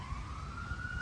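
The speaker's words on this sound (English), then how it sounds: "Sorry for the ambulance." An ambulance siren sounds faintly in the distance outdoors in Cody, Wyoming, its steady tone sliding slightly upward over a low background rumble, brief and alone without talk.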